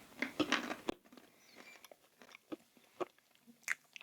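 A crispy nut-free keto cracker is bitten and chewed up close, with sharp crunches at first and then a scattered run of quieter crackly chews.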